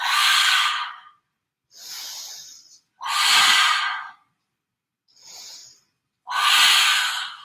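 Five forceful breaths from a yoga practice, exhaled hard through the nose and spaced by short silences, close and fairly loud, with two of them softer than the rest.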